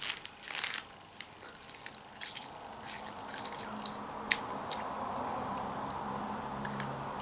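Crunchy, wet chewing of fruity Halloween sweets close to the mic, with sharp bites and crinkling early on, then steady soft mastication continuing throughout.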